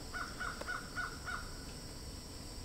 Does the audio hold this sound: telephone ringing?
no